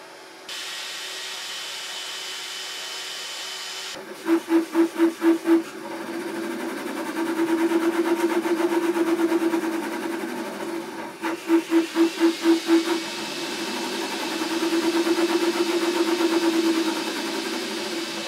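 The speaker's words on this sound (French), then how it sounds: "les ventilateurs font évidemment du bruit pour pouvoir évidemment refroidir, mais les mouvements également, donc rapides, aussi font un petit peu de bruit" A Creality Ender 3 V3 KE 3D printer running Klipper whirs with steady cooling-fan noise while its fast print-head movements buzz in rapid bursts and stutters, sharp direction changes repeating over a constant mechanical hum.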